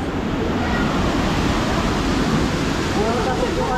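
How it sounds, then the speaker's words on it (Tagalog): Heavy typhoon rain pours down with gusting wind, a dense continuous roar of close, loud hiss and splatter that never lets up. "Lakas ng ulan guys."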